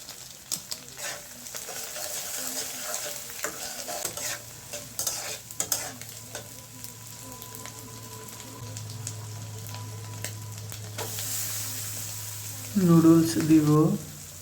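Noodles fry in a pan with noodle masala as a utensil stirs and scrapes in irregular bursts over a low, steady sizzle, and a voice speaks briefly near the end.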